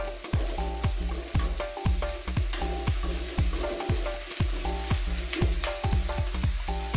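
Shrimp gambas sizzling loudly in hot oil in a pan, with steady frying hiss and repeated rhythmic stirring scrapes and clacks throughout, close and alone without talk.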